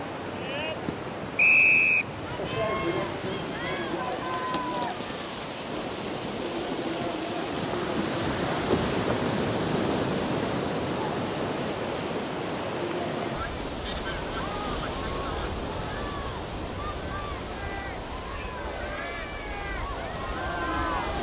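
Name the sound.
ocean waves breaking on the beach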